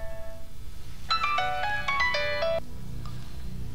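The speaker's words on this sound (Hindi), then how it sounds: "हसन खान साहब टेलीफोन।" A telephone rings with a bright electronic melody of quick tones lasting about a second and a half, heard faintly over a low background hum.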